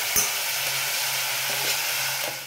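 Vegetables go into a pan with garlic paste: bell pepper, green beans, carrot, coriander and tomato. They sauté with a steady close sizzle, and a few soft stirring scrapes sit over the hiss.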